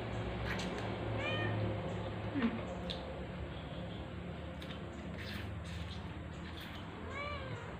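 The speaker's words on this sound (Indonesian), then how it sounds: "Ada kucing." A cat meows several times at moderate distance, short rising and falling calls spread across the stretch, over a steady background hum with some faint clatter and soft voices.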